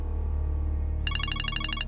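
Telephone ringing in a dubbed Turkish drama: a rapid, regular electronic ring pulse starts about halfway through and repeats nine or ten times, loud and clear over a low steady background hum.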